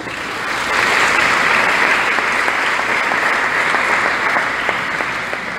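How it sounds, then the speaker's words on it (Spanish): Applause from a seated audience at a Neocatechumenal Way Advent gathering in Guayaquil, Ecuador, steady dense clapping that swells in after a brief quiet start and holds strongly to the end, with no talk over it. "Un aplauso a los hermanos."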